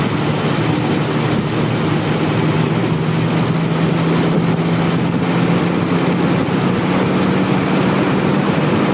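A motorcycle engine idles steadily and loudly while the carburetor's throttle adjustment screw is turned to set a rich idle mixture, a continuous droning hum with no break and no voices.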